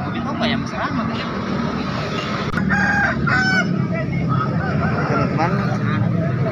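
Poultry at a bustling bird market in Makassar, with roosters crowing and hens and fowl clucking and honking amid a dense crowd hubbub; people talk throughout.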